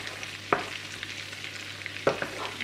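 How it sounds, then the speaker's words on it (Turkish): Chopped garlic sautéing in melted butter and a little oil in a pan for a yogurt haydari meze: a soft steady sizzle with two sharp utensil knocks against the pan, no talking. "Şimdi küçük küçük doğramış olduğum sarımsağı ekliyorum. Ve çok az kavuruyorum."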